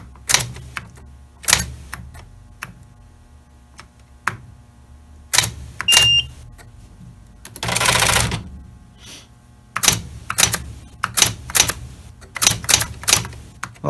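Keys clacking on a Royal Alpha 2001 typewriter with slow keys, loud and close: scattered single strikes and short bursts with pauses between, plus one longer whirring mechanical stretch midway.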